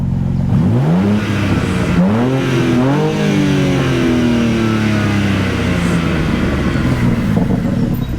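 BMW M2 engine revving in M mode, a loud, raspy mid-pitched roar that climbs in three quick rising blips before settling into a steady, sustained drone, close up and with no talk over it.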